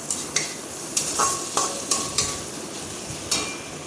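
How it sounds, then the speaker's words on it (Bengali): Ginger and garlic paste are stirred with onion, green chili and tomato as they fry in a pan, a soft steady sizzle broken by repeated sharp scrapes and taps of a spatula against the metal. "আদা ও রসুনটাকে পেঁয়াজ কাঁচা লঙ্কা টমেটোর সঙ্গে ভালোভাবে নেড়ে চেড়ে এভাবেই কষিয়ে নেব।"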